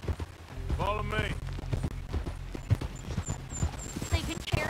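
Rapid rhythmic hoofbeats of a galloping horse in the video game Red Dead Redemption 2, steady and close, with a brief whinny and someone talking over it.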